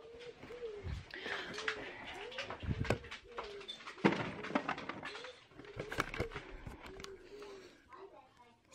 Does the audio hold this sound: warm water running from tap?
no